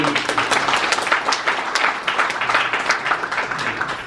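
Dense applause from a seated crowd greeting a guest at a gathering of overseas Korean business leaders, steady and fairly loud throughout with no talk over it.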